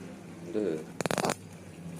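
Curry leaves go into a pan of chicken curry and set off a brief, close crackling spatter that lasts about a third of a second before settling back into a low simmer.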